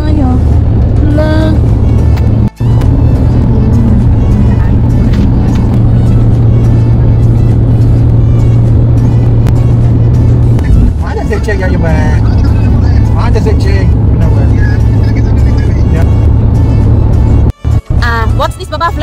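Car traffic moving along a road under a flyover, with a steady close engine and road rumble and a few vehicles passing, while people talk over it.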